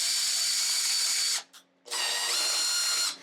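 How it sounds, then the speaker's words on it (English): A 3/8 tap is run through a through hole in wood by a power tool, whining steadily, cutting out briefly, then running again with equal loudness and no talk. "so I'm just going to run my tap through the through hole"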